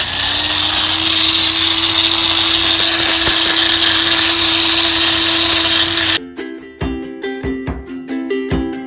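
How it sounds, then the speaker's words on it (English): Grinder beveling the edge of a fine piece of wood in a kitchen remodel: a loud, steady whine for about six seconds, then it cuts off, leaving quieter scattered knocks and rattles. "it's weird messing up a nice primo piece of wood with a grinder"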